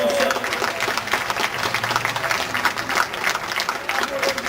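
A crowd applauds at a French national track cycling championship in Guadeloupe, with dense, steady clapping throughout and voices and cheers mixed into it.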